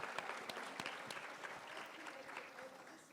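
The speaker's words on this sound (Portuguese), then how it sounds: "Salve de palmas, pessoal, muito bom." An audience gives a short round of applause, a dense patter of clapping at moderate distance, fairly quiet and tapering off within a few seconds.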